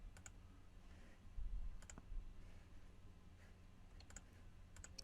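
Quiet computer mouse clicks at a desk while saving a file in MATLAB: a few faint, sharp clicks scattered over a hushed room, some in quick pairs, with no talking.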